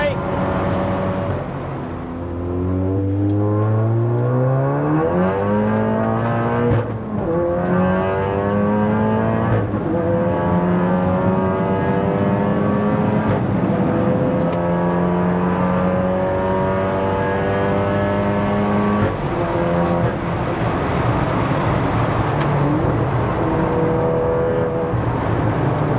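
A 500 BHP big-turbo MK7 Golf R races down a circuit's back straight, its engine climbing through repeated rising gear pulls with shifts between, loud and close from inside the car, with a voice exclaiming over it.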